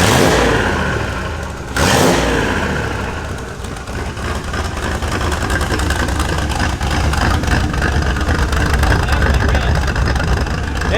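A turbocharged 5.0 Ford Ranger engine with an exhaust leak revs close up, a loud roar that swells, dips briefly, then settles into a steady rumbling run.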